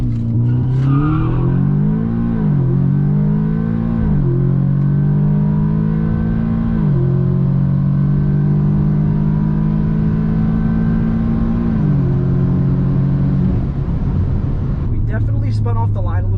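A Stage 2 Audi S3 revs hard down a quarter-mile drag strip, pulling through several rising gear runs, each climb broken by a quick shift, loud and close throughout, with a rattle near the end.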